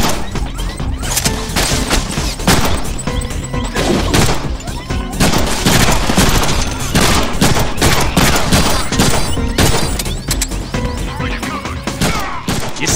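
Dense, continuous gunfire and crashing action from the Deadpool video game, loud and sustained throughout with bursts layered over a busy game soundtrack, running on a Snapdragon 680 phone.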